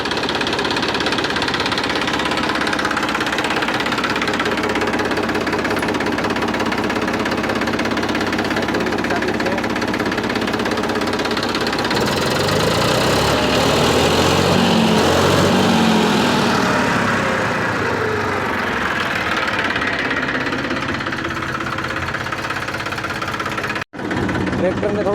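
A 2020 model tractor engine runs with a constant, knocking diesel drone. It grows heavier and rougher partway through and holds loud and close until a sudden clunk near the end.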